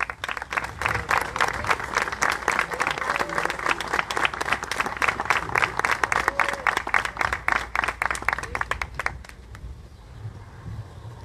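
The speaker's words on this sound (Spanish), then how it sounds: "Lo recibimos con un fuerte aplauso." An audience applauds at a ceremony marking fifteen years of Rafaela's Urban Guard, with strong, sustained clapping in dense, distinct claps that thin out and stop near the end, followed by quiet room tone.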